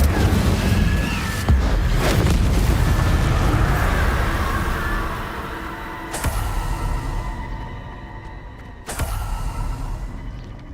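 An Incendio fire spell cast in the video game Hogwarts Legacy, a loud roaring whoosh of flame with rumbling low booms that swells and fades, followed by two sharper bursts later on.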